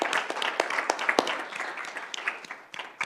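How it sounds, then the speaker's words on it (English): Brief applause at a school governing board meeting for a newly appointed elementary school principal, a small group clapping unevenly with a few sharp nearby claps, easing off toward the end. "We'll give him a round of applause real quick"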